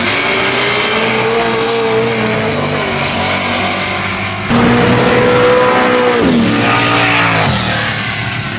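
A Ford LTD drag racing, its loud engine roaring continuously at close range. The pitch holds, then shifts and climbs again as the car keeps pulling hard.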